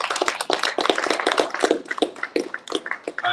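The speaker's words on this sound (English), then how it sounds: "Let's give Mr. Douglas a big round of applause." A lecture audience at the Consul General's Distinguished Lecture Series claps for the speaker, loud close-up applause with dense uneven hand claps throughout and no talking.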